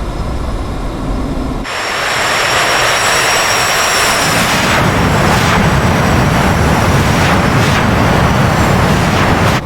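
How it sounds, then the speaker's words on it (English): Simulated F-22 Raptor jet engines in a video game, throttled up to full afterburner for a takeoff: a quiet idle, then a loud broadband roar swells after a couple of seconds and builds steadily to a sustained blast with no voices. "we're going to go brakes on and on 3 full afterburner"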